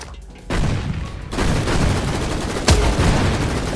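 Grenade and C4 blasts in the Roblox game Operation One: overlapping rumbling explosions build up, with a sharp crack-like burst partway through, over a continuous loud roar.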